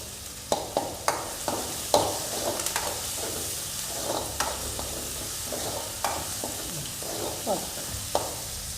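Onions sauté in a pan for village-style fish curry, sizzling steadily up close while a spoon scrapes and stirs in frequent irregular strokes.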